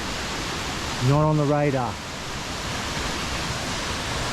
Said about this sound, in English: I'm here by the waterfall.